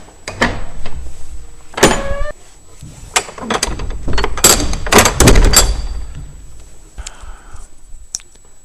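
Big old wooden doors of St Peter's church in Monks Eleigh, Suffolk, are pushed open with close, loud clunks, creaks and rattling knocks, followed by a quieter stretch.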